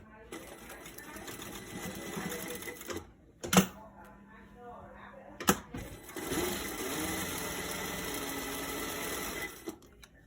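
A home sewing machine stitches a DIY fabric face mask in bursts of steady mechanical whirring, pausing briefly around the middle before running on continuously, close and fairly loud.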